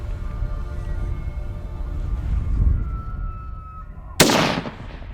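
A single loud, sharp rifle shot is fired at a big bull elk on a hunt in grizzly country. It cracks out of a quieter low rumble and trails off in a brief echoing decay.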